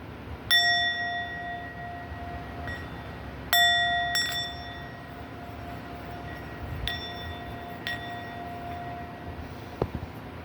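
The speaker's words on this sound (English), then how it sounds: "I will now ring the bell" A small ritual bell rung after a chanted Om Mani Padme Hum mantra gives four bright, clear dings spaced a few seconds apart, each ringing out and fading.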